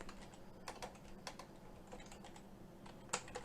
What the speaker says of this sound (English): So I'm just going to type that command